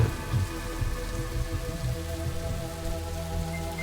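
Steady rain falling in the sandbox video game Rising World, a continuous even hiss of drops on surfaces with a low rumble underneath, unbroken and unchanging throughout with no talk.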